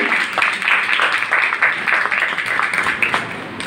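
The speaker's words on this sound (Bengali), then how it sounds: "আমাদের করতালি দিয়ে অভিনন্দন" An audience at a Rabindrasangeet training workshop opening claps to welcome a trainer, a dense, steady round of applause close by that lasts throughout and tapers slightly at the end.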